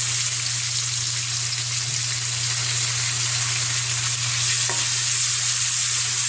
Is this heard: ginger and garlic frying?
yes